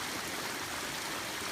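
Steady, dense rush of water pouring down Peavine Falls on Oak Mountain over maroonish red rock, a constant broadband roar heard up close with no talking.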